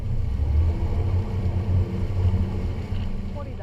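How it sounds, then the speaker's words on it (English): Wind blows at sea aboard a Capelli Tempest 40 motorboat heading out from the port of Varazze, a steady, close low rumble of gusting air buffeting the boat and microphone. "the wind is blowing a little bit harder as we edge slowly away from the coast"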